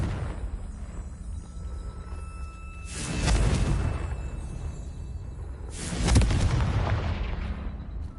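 A Confringo fire spell in Hogwarts Legacy going off twice, each a loud booming explosion with a roaring burst that rumbles and slowly dies away, over a quiet ambient background.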